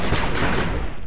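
A machine gun turret firing in the 8-Bit Armies strategy game, a brief dense rattling burst of continuous shots, loud and compressed.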